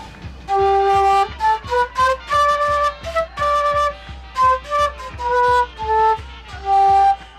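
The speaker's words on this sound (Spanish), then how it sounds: "Otro importante instrumento de madera es la quena," A wooden quena, the notched Andean flute, played alone in a clear melody of breathy sustained notes and quick tongued runs, each phrase separated by short gaps.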